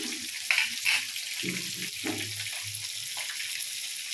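Kolivalai fish pieces frying in hot oil, a steady close crackling sizzle with a few sharper spits near the start as pieces drop in, no talking.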